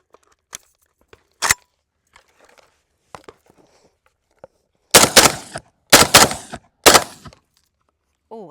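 A Saiga 12 gauge shotgun made by Izhmash in Russia fires three loud, close blasts in quick succession, each with a short echo, after scattered small clicks and clatter.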